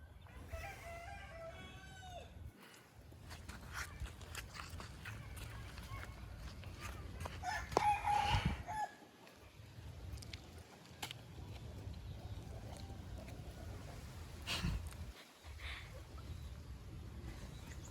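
Chickens cluck and a rooster crows in a rural Lao countryside setting, faint and distant throughout, with people talking over them.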